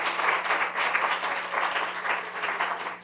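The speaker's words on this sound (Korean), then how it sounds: "우리 수고했다고 한번 박수 한번 쳐주세요." A church congregation applauds at a service, producing a steady wash of many hands clapping at moderate distance with gentle swells, continuing throughout over a low steady hum.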